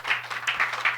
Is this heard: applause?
yes